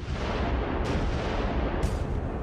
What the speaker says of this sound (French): Les obus britanniques de 38 cm s'abattent sur les navires français.